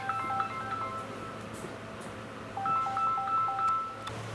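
A phone ringing indoors in a quiet room, with a repeating electronic two-tone ring pattern in two bursts over a low background hum.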